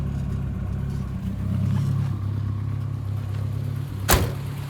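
A car engine fitted with a Holley 5200 carburetor idles at about 1,000 RPM, a steady low rumble close by, ending with a short sharp knock near the end.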